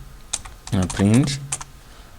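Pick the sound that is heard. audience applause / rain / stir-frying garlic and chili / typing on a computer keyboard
typing on a computer keyboard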